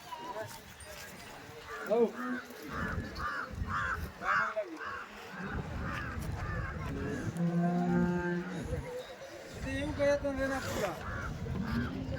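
Cattle at a village cow market where milk cows are traded, with a drawn-out moo rising among crows cawing, hoof clops and a busy crowd, while people talk throughout.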